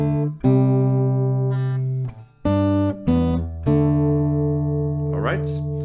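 An acoustic guitar plays the first melody of a song alone. It is a short run of clearly plucked notes, each left to ring before the next, with brief gaps between phrases.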